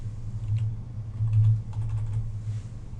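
Typing a number into a spreadsheet cell on a computer keyboard: a short run of close, quick key clicks over a low steady hum, with no voices.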